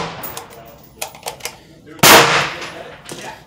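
A RIA VR80 12 gauge shotgun fires one loud, sharp blast at a San Leandro shooting range, preceded by a few quieter clicks and knocks of handling and followed by a short fading tail.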